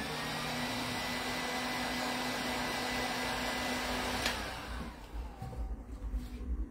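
A hair dryer blows to dry paint on a handmade mask, a loud steady close whoosh with a constant hum that cuts off after about four seconds, leaving faint handling noises.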